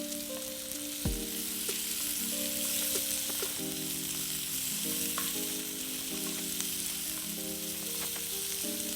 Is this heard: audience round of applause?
no